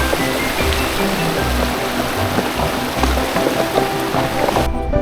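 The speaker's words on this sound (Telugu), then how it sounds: "నదిలో వాటర్ ఎంత మంచిగా ఉన్నాయో చూడండి." River water flows through Betaab valley in Kashmir, a loud, close, churning rush that stays steady for several seconds with no voices.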